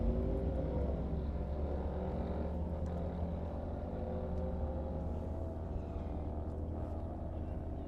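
A Ford Ranger with a swapped 351W V8 on street tires makes a naturally aspirated drag race pass, its engine a loud, steady low rumble that holds throughout without talk.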